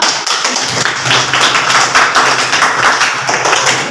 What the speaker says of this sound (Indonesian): Mari kita beri aplaus untuk kelompok.